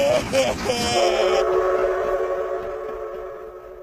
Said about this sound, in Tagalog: Umalis na yung tren.